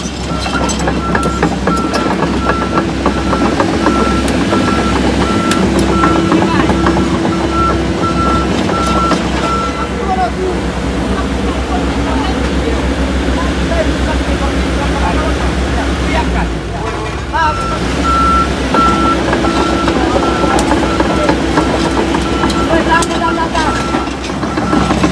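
Steady, repeated reversing beeps from an excavator working to recover a Hino truck stuck in a ditch on a steep stone hill road, sounding loud over a continuous heavy diesel engine rumble, with voices in the background.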